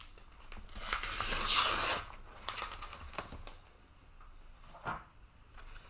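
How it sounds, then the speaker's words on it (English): Paper torn out by hand for a collage postcard gives one long, loud ripping sound near the start, then softer rustles and a small tear, close up and without talking. "So now I could tear this out."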